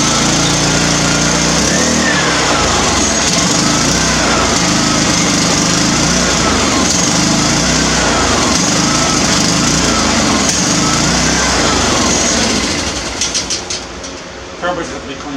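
A small lawn tractor mower engine, hydrostatic-drive machine, cold started with choke on indoors, revving loudly and running steadily for several seconds, then dropping off near the end with a voice talking over it.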